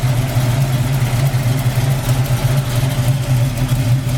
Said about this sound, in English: This motor runs absolutely perfect.